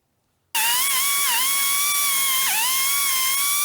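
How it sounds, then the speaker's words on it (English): A die grinder starts abruptly and whines at a high, steady pitch while grinding clearance in an engine block, the tone dipping briefly twice as it bites into the metal. "let me mark that and hit that with the die grinder."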